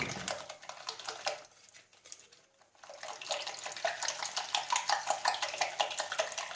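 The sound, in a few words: whisking gluten-free crepe batter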